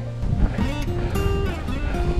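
A flowing stream through marshland on the Fukushima–Gunma border at Oze, water rushing steadily with broadband splashing, while someone talks over it in the foreground.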